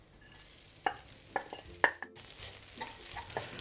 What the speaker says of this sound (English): fry the rice until it's a little bit dry, right?